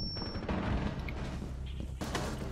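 Gunfire in the military shooter game Squad: a dense burst of shots at moderate level with a second cluster near the end, mixed with game ambience and some background voice chatter.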